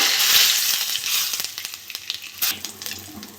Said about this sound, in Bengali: ওই তেলে আমি গোটা শুকনো লঙ্কা তেজপাতা শুকনো লঙ্কা গোটা জিরে গরম মশলা দিয়ে দেবো